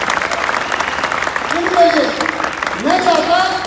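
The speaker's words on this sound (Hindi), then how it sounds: "मैं जोरदार ताली चाहूंगा रविंद्र भाई के लिए।" Applause from a seminar audience for Ravindra bhai, a broad wash of clapping under a loud voice speaking over it in the foreground.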